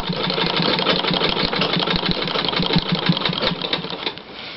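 A treadle sewing machine stitches steadily during free motion quilting on a quilt, giving a continuous close mechanical whir with fast rhythmic clatter and occasional heavier knocks, alone throughout.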